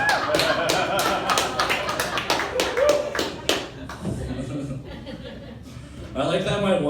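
Comedy club audience applause at a brewery comedy room, lively clapping mixed with chuckles and laughter that tapers after a few seconds, followed by murmuring voices and talk.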